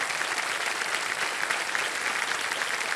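A studio audience at a television quiz show claps in steady, dense applause, moderately loud and continuous throughout with no voices on top.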